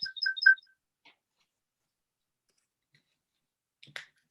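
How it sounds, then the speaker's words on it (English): A mobile phone chirps a short ringtone of quick high repeated beeps at the start of a meeting, followed by silence broken by a few small clicks and a brief harsher buzz near the end. "Damn phone's still on."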